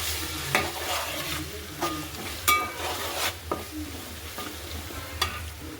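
Turmeric and ginger garlic paste stirred in a frying pan, with a soft steady sizzle under scattered scraping strokes of a utensil against the pan, close and fairly quiet, with no voices.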